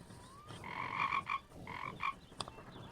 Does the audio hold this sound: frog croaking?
yes